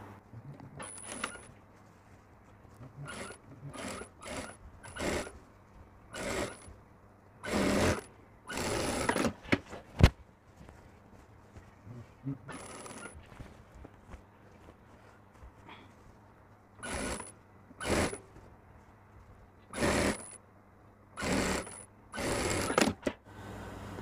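A sewing machine stitches the sleeve onto a collared kurti in short, clattering bursts separated by pauses, each run loud and close against a quiet room.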